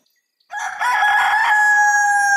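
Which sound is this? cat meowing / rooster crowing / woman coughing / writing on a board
rooster crowing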